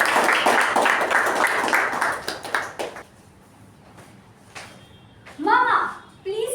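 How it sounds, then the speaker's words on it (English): Applause breaks out at a Toastmasters meeting, dense clapping for about three seconds before fading, followed by a quiet pause and then a brief child-like voice. "Please give a huge round of applause to Toastmaster Jia."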